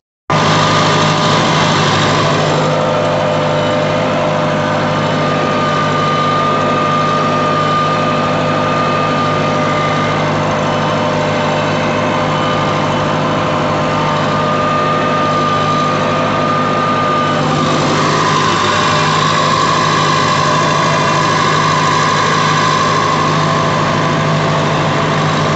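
A tractor engine runs in low gear while pulling a disc plough across a field, giving a loud, constant, close droning rumble throughout, with a slight change in pitch partway through.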